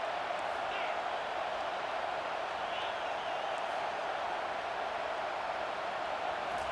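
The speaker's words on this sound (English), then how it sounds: "this crowd trying to help keep them there" A steady, dense stadium crowd roar from a college football video game, EA Sports College Football 25, with fans making noise to keep a Nebraska Cornhuskers opponent pinned deep in its own end. The roar is continuous and moderately loud throughout.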